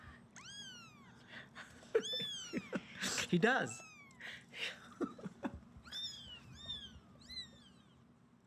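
Feral kittens meow loudly and repeatedly at close range in a rapid series of high, rising cries, with a person speaking briefly among them.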